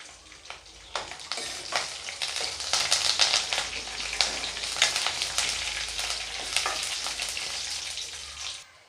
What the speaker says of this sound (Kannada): ಇದಕ್ಕೆ ಈಗ ನಾನು ಲಾಸ್ಟಲ್ಲಿ ಕರಿಬೇವು ಹಾಕ್ಕೊತೀನಿ.